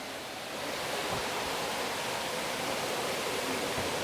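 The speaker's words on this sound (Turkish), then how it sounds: "şu anda arkamda Düden Şelalesi'ni görmektesiniz" Düden Waterfall in Antalya pours steadily, a broad, even roar of rushing water that holds at a constant loud level throughout, with no voices.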